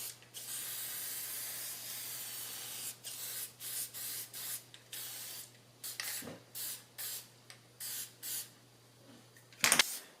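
Repeated short aerosol bursts of protective conformal coating sprayed onto the circuit board of a 1976 Mazda RX-5 instrument cluster, about a dozen hissing puffs in an irregular rhythm, close and fairly loud, with a faint steady hum underneath.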